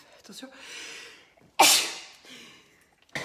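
One sharp, loud sneeze bursts out partway through and then fades, with a person speaking before and after it.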